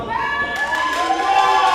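A wrestling event crowd cheers and shouts loudly and continuously, with some higher-pitched voices standing out in the steady roar.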